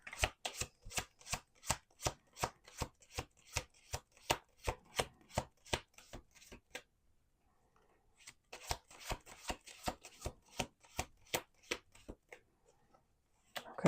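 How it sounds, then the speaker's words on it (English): Tarot cards being shuffled in two runs of quick, evenly spaced riffling snaps, close and clear, with a brief pause between them. "Let's do 2 more shuffles."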